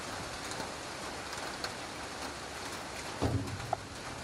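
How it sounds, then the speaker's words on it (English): Rain falling over an outdoor football pitch during a Goa Pro League match in Goa, a faint steady hiss of showers with a few soft knocks and thumps near the end. "Goa is being blessed by rains even in this part of the season"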